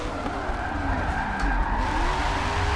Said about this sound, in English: 190 mile an hour e-brake